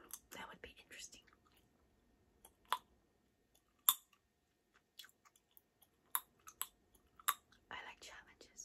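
Close, wet chewing and sharp snapping of Starbucks gum, irregular pops and smacks separated by near silence, intimate and quiet in ASMR style.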